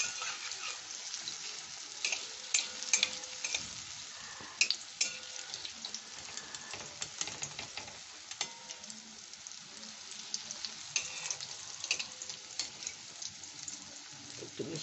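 Brinjal fritters frying in a pan while being stirred and turned, giving a steady light sizzle broken by occasional soft scrapes and clinks close by, with no talking.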